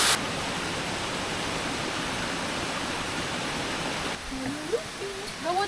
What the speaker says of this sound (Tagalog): We have arrived in the falls.